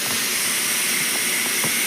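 A new pressure cooker lets off a steady, continuous hiss of steam, fairly loud and unbroken, with a few faint knocks underneath.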